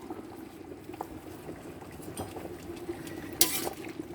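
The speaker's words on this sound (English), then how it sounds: "Ooh, they popping everywhere." Pot of collard greens just switched off after a long boil, steady low bubbling with scattered pops and one sharper burst near the end, close and moderately quiet.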